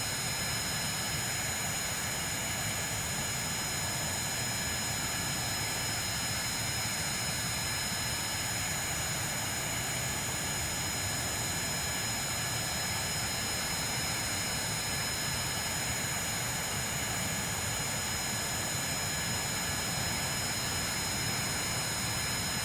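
Steady, loud aircraft engine roar during a dive in the video game Kerbal Space Program, a constant whining drone with high tonal hums that holds unchanged for over twenty seconds with no talking.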